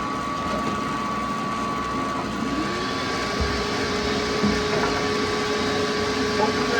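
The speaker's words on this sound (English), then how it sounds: "I'm going to split this piece of wood now right down the center, and I just hope it splits straight. This is a resaw blade" A band saw fitted with a 3-teeth-per-inch resaw blade splits a piece of wood down the center, a steady droning, buzzing cut that holds at an even, fairly loud level throughout.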